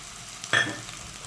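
A sudden burst of sizzling as spices and coriander seeds hit hot oil in a tempering for batata vada, loud at first then settling into a softer crackle.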